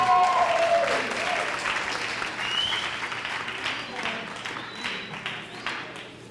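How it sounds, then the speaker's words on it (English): A crowd at a 1998 graduation program for a pivot program's graduates claps in a round of applause that starts loud and slowly thins out over several seconds. "Give everybody a round of applause again."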